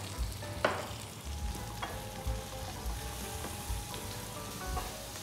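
Garlic, onions and ginger sauté in a pan with a strong, steady sizzle, punctuated by several sharp scrapes and clinks of a utensil stirring, close and loud with no talking.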